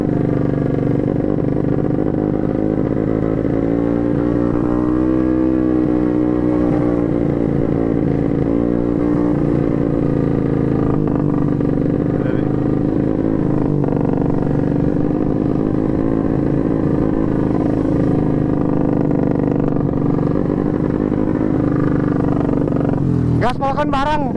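Two motorcycles revving, a carbureted Honda Beat bored to 142cc and a Kawasaki Ninja RR 150cc two-stroke, giving a loud, sustained, close-up engine drone with rising and falling throttle for over twenty seconds, with a sharp burst at the end.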